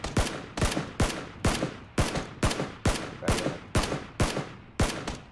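Rapid, evenly spaced gunshots from PlayerUnknown's Battlegrounds, about a dozen sharp cracks at a steady rhythm of roughly two per second, each with a short decaying tail, close and clear with no talking.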